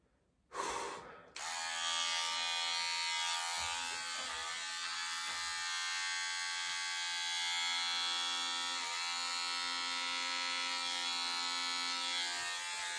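Electric hair clippers buzz steadily and close up while shaving a head of hair, starting after a short gasp-like breath and running continuously with slight changes in pitch as the blades move across the scalp.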